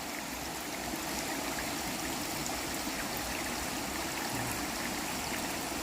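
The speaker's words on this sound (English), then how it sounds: "All the way up the waterfall." Glacier-fed waterfall and clear creek rush in a continuous, even roar of flowing water, close and steady throughout with no talk.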